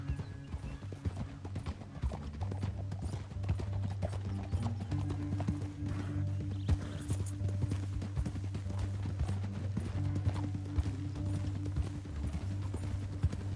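Horse hooves in Red Dead Redemption 2, a steady clip-clop of riding horses that continues throughout over a low rumbling game soundscape, moderately close and unbroken.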